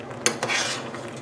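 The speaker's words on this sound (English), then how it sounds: "We're going to mix it gently" A utensil scrapes and clinks against a pot as vegan cheese sauce is stirred into vegetables. There is one sharp tap, then a brief soft scraping swirl, close and fairly quiet.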